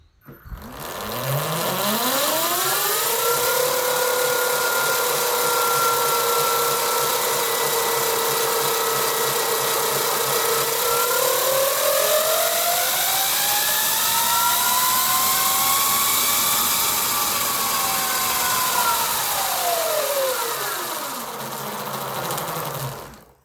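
The electric motor of a CBR250R motorcycle converted to electric power spins up on a stand with the front brake held, its whine rising steadily in pitch, dipping, climbing again, then winding down, loud and close throughout.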